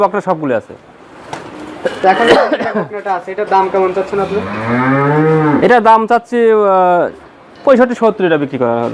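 A cow lets out a loud, long, drawn-out moo, with shorter bellows around it and people's voices mixed in, at a dairy farm with Friesian heifers.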